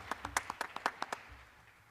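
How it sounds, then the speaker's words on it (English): Audience at a school board meeting breaking into a short burst of scattered hand clapping, about a dozen claps over a second before fading, quiet and fairly distant. "You guys can clap."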